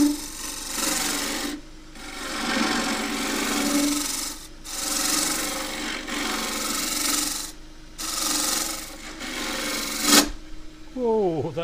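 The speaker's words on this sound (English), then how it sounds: "Rather get round here with the scraper." A scraper cuts a claret ash natural-edge bowl spinning on a lathe, giving a steady hissing, rasping rub in long passes with brief breaks between them, close and loud, with a sharp catch near the end.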